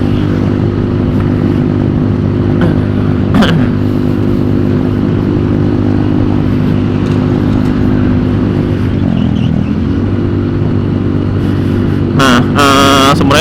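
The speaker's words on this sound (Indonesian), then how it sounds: "jadi ada gambaran lah kurang lebih bakal seberisik apa ini motor" A loud, modified Yamaha Mio M3 4-valve motorcycle engine idles close by, a steady droning rumble that holds through the clip, with a brief dip near the end and a sharp metallic burst at the very end.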